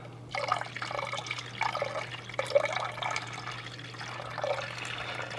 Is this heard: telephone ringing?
no